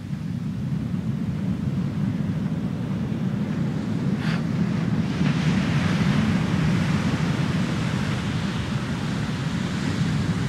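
Steady broadband roar of ocean waves along a shoreline on a coastal walk, continuous and fairly distant with wind buffeting the microphone, no voices.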